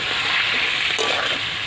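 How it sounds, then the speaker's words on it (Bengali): Chili and garlic paste sautéing in hot oil in a pan with turmeric, the base for a papaya fish curry, gives off a steady, close, even sizzle with a faint scrape of stirring. "এটাকে লাল করে অনেকক্ষণ বসে কষাতে হবে।"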